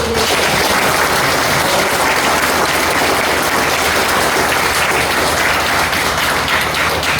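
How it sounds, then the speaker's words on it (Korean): A large church congregation at an elder ordination ceremony applauds steadily and loudly, a dense continuous wash of clapping that holds at full strength throughout. "이분들 모두를 위해서 뜨거운 박수"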